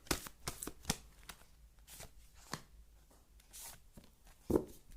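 Tarot cards being shuffled and drawn: quick papery riffles and snaps in short bursts, then softer single card slides and taps, close and quiet, with no talk.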